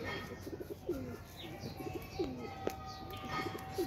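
Soft pigeon coos repeat in short rolling phrases, fairly close, over quiet ambient noise with a faint steady tone.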